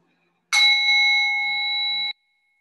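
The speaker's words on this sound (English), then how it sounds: "Sound of the bell" A single bell struck in a restorative yoga class, one clear ringing tone that sustains evenly for over a second before cutting off, alone in a quiet room.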